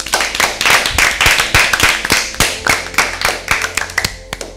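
A quiz show audience claps for team B in a Bible quiz, loud, close, rhythmic hand claps in a steady beat that gradually thin out toward the end.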